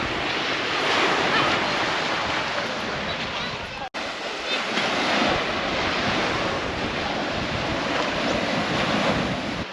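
Surf rolls steadily onto Misery Beach at Bald Head near Albany, Western Australia, the waves loud and close with gusts of wind buffeting the microphone and a brief sharp dropout midway.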